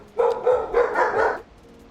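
Dogs barking nearby, a quick burst of three or four loud barks in close succession, then quiet.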